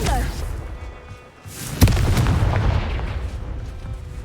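In the Hogwarts Legacy video game, a Confringo spell goes off as a sharp blast with a sudden crack, then a rumbling roar that lingers, loud and close, over game noise.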